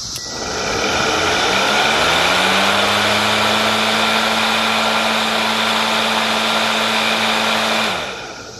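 An Ego Power+ 56v electric lawn mower, model LM2000, spins up its motor in the air with a loud, steady high whine and hum that holds for several seconds, then winds down and stops, close by and without talk.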